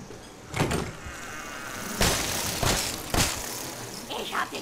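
A door swings and closes inside a Resident Evil 7 house, with several creaking, scraping bursts and a thud over low background ambience.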